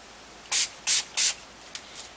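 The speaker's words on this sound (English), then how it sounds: "I like spraying some through the root of my hair towards the back where it gets really flat." Three short hissing bursts of hair texturizing spray in quick succession, close and fairly loud, aimed at the hair roots, followed by a couple of faint clicks and a softer puff.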